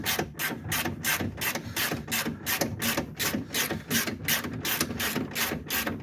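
A screw being driven into the door panel of a 2002 Ford Windstar during door panel work gives a rapid, even series of ratcheting clicks, close and steady throughout.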